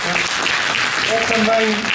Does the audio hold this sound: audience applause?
yes